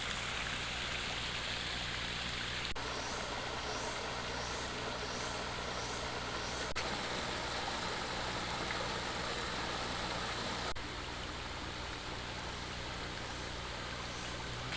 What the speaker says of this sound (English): Slow flowing water, shallow pools.